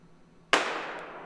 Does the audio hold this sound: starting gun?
yes